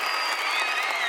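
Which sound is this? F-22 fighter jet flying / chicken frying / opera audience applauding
opera audience applauding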